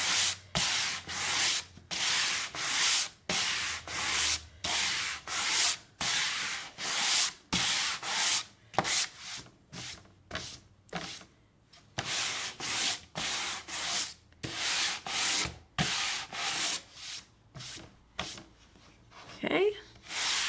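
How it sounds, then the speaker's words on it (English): Sandpaper rubbed over dried paint on a sponge-painted background, heard as steady, rhythmic back-and-forth scratchy strokes, close and fairly loud, with brief pauses between passes. "I got one little kind of crooked line right there, so you can sand it to make it not as obvious."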